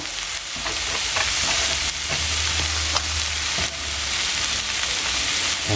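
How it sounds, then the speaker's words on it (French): Coarsely chopped ginger and garlic browning in a little leftover oil in a pan, a loud, continuous close-up sizzle with steady crackling throughout. "je vais y mettre du gingembre émincé grossièrement, de l'ail qu'on va faire roussir"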